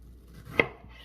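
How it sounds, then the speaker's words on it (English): A single knife stroke through a large piece of pineapple for salsa lands as one crisp, close chop against a cutting board, standing alone. "going to cut that big piece in half"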